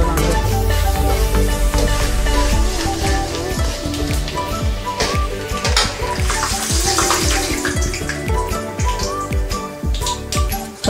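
Urad dal and cumin seeds frying in hot oil in a pan for temple-style chitranna, a steady loud sizzle with crackling and scraping stirs throughout, no voices.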